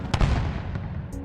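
A single sharp explosion bursts out near the start, then settles into a rolling, crackling rumble that fades over about a second.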